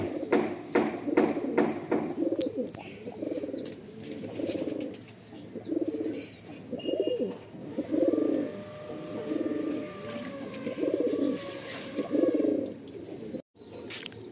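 Pigeons cooing inside a pigeon loft, repeated soft rhythmic coos close by, overlapping throughout with a few faint higher chirps.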